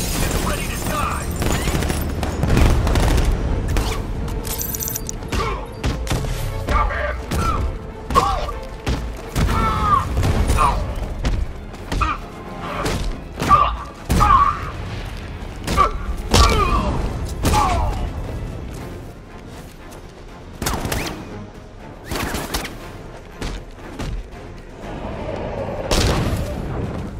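A tank in Batman Arkham Knight fires repeatedly, heavy booms and mechanical clanks punching through a busy, rumbling scene, with voices talking over parts of it.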